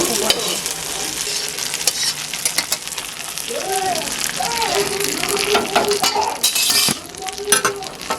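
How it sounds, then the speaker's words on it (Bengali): Hot ghee tempering poured over coconut paste for coconut chutney sizzles loudly, with spoon clinks and stirring scrapes over a crackling hiss while a person talks in the background. "নারকেলের পেস্টের উপরে ছোকটা আমি দিয়ে দেব।"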